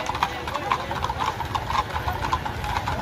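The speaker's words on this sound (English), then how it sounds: "there's a lot of horses in town" Horses walk through a town street at night, their hooves clip-clopping in a steady, close, rhythmic patter, with an engine idling and faint voices in the background.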